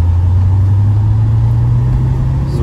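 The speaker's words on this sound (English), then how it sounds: "I'm gonna give it some gas here." A 1984 Porsche 928 S accelerates hard up a highway on-ramp, rolling from second gear. Its loud, steady engine drone holds a strong low tone that climbs gradually, heard from inside the car with no talking.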